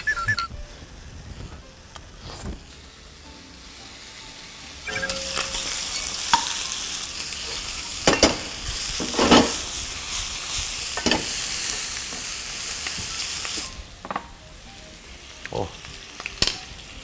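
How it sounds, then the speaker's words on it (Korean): Assorted mushrooms stir-fried in a pan, with a steady, fairly loud sizzle broken by repeated scraping stirs and clatter, and some brief voice in the background. "버섯 종류를 다 넣겠습니다. 그냥 볶을 때 기분이 좋아요."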